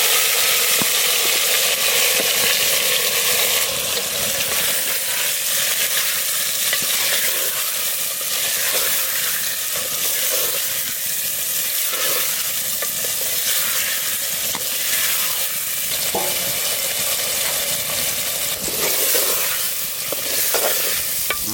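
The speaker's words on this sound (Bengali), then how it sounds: "তেল গরম হয়ে গেছে, মশলা দিয়ে মাহানো মাছ আলু টালু সব একসাথে দিয়ে দেবো।" Spiced fish and potatoes fry in hot sunflower oil in a clay pot, a loud, steady sizzle with scraping stirring strokes throughout and no voices.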